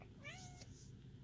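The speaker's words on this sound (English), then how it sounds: "Oh, I heard my kitty meow." A single short cat meow, faint and slightly distant, rising then falling in pitch over a low steady background hum.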